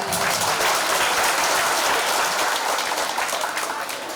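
A crowd at a jatra theatre stage performance applauding loudly and continuously, dense clapping filling the space without pause.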